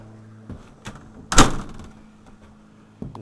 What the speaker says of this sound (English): We're going to lock the door.